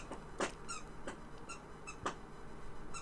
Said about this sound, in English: The squeaky toy.